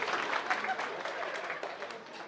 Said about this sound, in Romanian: Aplauze și pentru soție.